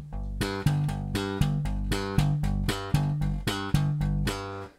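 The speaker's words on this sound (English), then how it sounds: "double thumbing is a slap technique" Punchy double-thumb slap bass notes come in quick doubled plucks, repeating in an even groove with no other instruments.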